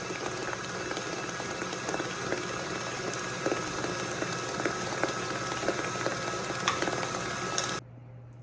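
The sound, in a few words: electric mixer whipping eggs and sugar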